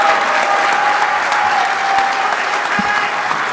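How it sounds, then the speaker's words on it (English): Loud, steady crowd applause fills an awards banquet at the 2023 1/10 IFMAR RC Worlds at Hobby Action RC Raceway, honoring two-wheel drive world champion Michael Sontag; dense clapping continues evenly throughout without breaks. "huge round of applause for Tater, a.k.a. Michael Sontag, your 2023 two-wheel drive world champ"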